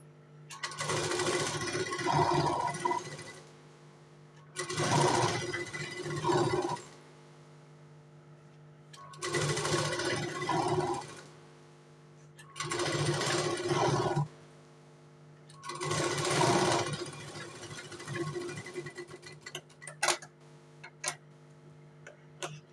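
Sewing machine stitching a waistband onto the back piece of a 4-tuck blouse, running in five steady whirring bursts of a few seconds each, separated by short pauses, close and fairly loud.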